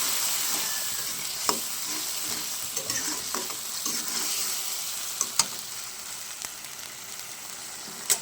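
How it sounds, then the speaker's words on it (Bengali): Ginger-tomato spice paste with salt and turmeric stir-fried in a pan, a soft continuous sizzle with occasional sharp scrapes and taps of the spoon, close and alone without voices. "মশলাটা ভালো করে কষিয়ে নেব"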